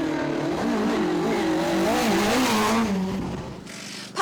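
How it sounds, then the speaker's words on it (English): A tail-happy Ford Escort rally car on a historic rally stage revs hard with wavering engine pitch and tyre squeal as it slides sideways, loud and close, then fades away. "Pat Looney and Tom Kelleher from Kerry in their Ford Escort, a brand new build for the car, and plenty of sideways action from the tail-happy Escort"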